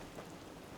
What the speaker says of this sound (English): Take a nap, and it's raining.